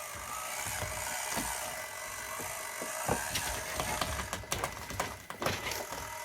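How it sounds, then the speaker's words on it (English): Noisy metal gears whir steadily in an Axial SCX24 RC crawler driving a course, a continuous close mechanical hum with scattered ticks and clicks. "You can hear the noisy gears, but lots of control."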